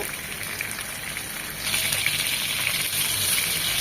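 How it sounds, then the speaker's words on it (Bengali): Shol fish frying in mustard oil in a pan gives a steady, close broadband sizzle like light rain that grows slightly louder partway through, with no talking. "জাস্ট এপিট 1 মিনিট ওপিট 1 মিনিট ভেজে নেব"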